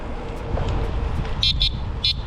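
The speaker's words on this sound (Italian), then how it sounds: "Questo suono del clacson mi ricorda tantissimo quello del Ciao" A DUOTTS C29 electric bike horn sounds three short electronic beeps, the first two close together and the third after a pause, over a low background rumble.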